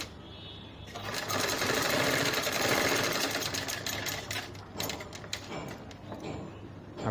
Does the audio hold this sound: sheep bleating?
no